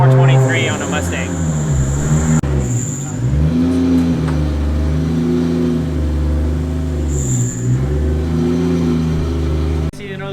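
A 2JZ-swapped Ford Mustang runs on a Mustang chassis dyno, its engine droning loud and close with repeated rises and falls in pitch as it revs, plus a faint high whine over the roar.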